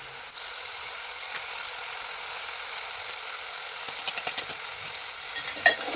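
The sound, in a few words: chicken with coriander, chili powder, turmeric frying in oil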